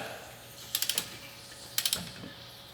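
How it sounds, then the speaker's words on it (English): Torque wrench ratcheting while tightening the brakes on a 1948 Chevy: two quick bursts of three or four sharp metallic clicks about a second apart, close and crisp over a quiet background. "So we've set our trusty torque wrench to 33 exactly, and I'm just going to bring it up"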